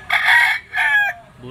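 Rooster crowing at a gamefowl auction market in Lipa, a Melsins Black green-legged straight-comb bird, giving two loud, close crows in quick succession.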